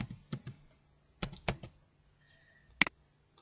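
Computer keyboard typing while filling in a classroom assignment, heard as short clusters of crisp clicks with pauses between bursts, close and fairly quiet, no talking.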